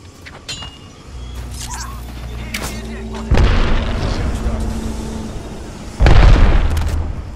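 Grenade explosions in the Apex Legends battle royale game, two loud heavy booms a few seconds apart, each with a broad rumbling blast and lingering tail over steady game ambience.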